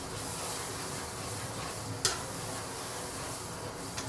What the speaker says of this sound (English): You do need to keep on stir it so that it doesn't get get burnt